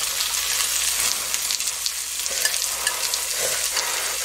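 Garlic frying with pork belly, giving a loud, close, continuous sizzle and crackle with light stirring scrapes throughout.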